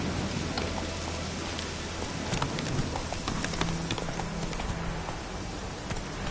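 The horse Roach's hooves clop steadily in The Witcher 3 video game, a continuous run of hoofbeats over a constant wash of rain-like ambient noise.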